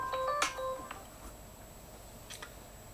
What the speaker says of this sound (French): c'était donc le téléphone